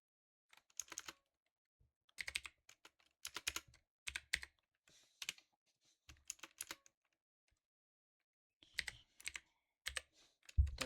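Bursts of typing on a computer keyboard, key clicks in quick irregular runs separated by short pauses, fairly close and alone with no talk.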